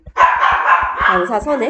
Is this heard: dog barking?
yes